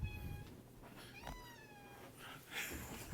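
A domestic cat meows several times in a row, each call rising and falling, fairly close and clear against quiet room background, with short gaps between calls.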